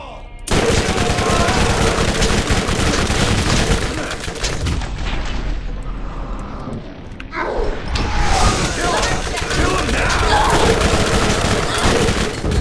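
Dense, continuous gunfire from the Borderlands video game, heavy and unbroken with a brief dip in the middle, mixed with game sound and likely voices throughout.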